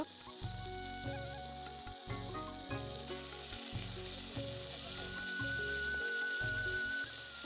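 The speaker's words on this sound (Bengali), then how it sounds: "এখন মাছ ভাজা তেলে আলু আর গাজরগুলো দিয়ে একটু ভেজে নিব" Potatoes and carrots fry in hot oil left over from frying fish, giving a steady hiss with rhythmic pulses, sustained and close, with no talk.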